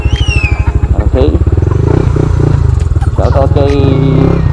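A Yamaha Aerox 155cc scooter being ridden, its engine loud and close with a rapid pulsing throb that rises and falls as it accelerates, and someone talking over it.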